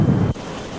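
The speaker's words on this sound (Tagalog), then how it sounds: "napakalakas talaga ng hangin, baka tangayin tayo" Strong typhoon wind in a flooded coastal town in Cavite roars in a loud, broad gust against the microphone for a third of a second, then drops abruptly to a quieter rushing hiss.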